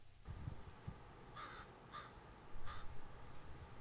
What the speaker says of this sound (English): Every once in a while, the adult crow gives a call